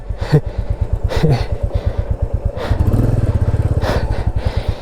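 A Royal Enfield Classic motorcycle thumps close and loud in a steady single-cylinder beat, swelling as the revs rise midway, with a few brief hissing bursts over it.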